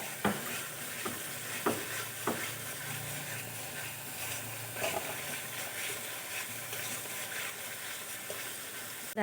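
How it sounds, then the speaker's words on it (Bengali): A spice masala is sautéed and stirred in a pan, with a steady sizzle and occasional sharp spoon scrapes, close and alone without speech. "ভালো করে আমি মশলা কষিয়ে নেব"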